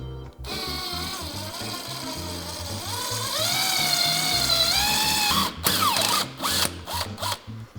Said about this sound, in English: take our self-tapping screw, get it started in here